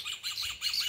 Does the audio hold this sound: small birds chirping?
yes